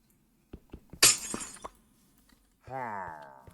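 A single crisp glass-shatter burst in the Minecraft video game, preceded by light clicks and followed by a fading tail, then a rising game tone; no voices during the break.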